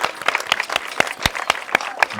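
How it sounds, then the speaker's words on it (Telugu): A small crowd claps for rangoli designs at a women's Sankranthi celebration, sparse distinct claps falling in a fairly regular rhythm, close by, with no talk over them. "అంత బాగా చేశారు కదా, ఒకసారి క్లాప్స్ కొట్టండి"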